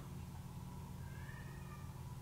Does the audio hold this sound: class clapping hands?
no